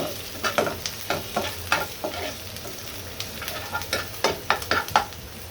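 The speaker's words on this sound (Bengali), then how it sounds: "আমার শাকের জন্য পেঁয়াজ ভেজে নিচ্ছি" Onions frying in a pan for a red spinach dish, stirred with a utensil: close, crackling sizzle under a run of sharp scraping strokes in an uneven rhythm, with no talk.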